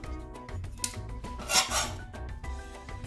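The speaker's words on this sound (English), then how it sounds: "I'm gonna pull them out using a spatula" Metal spatula scraping and sliding under katayef pancakes cooking in a pan, soft rasping and rubbing with a brief louder scrape midway, close and quiet, no talking.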